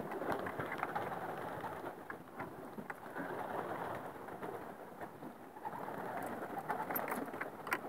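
Racing pigeons cooing at a loft, a soft, steady murmur of birds under a continuous noisy background, with no talking.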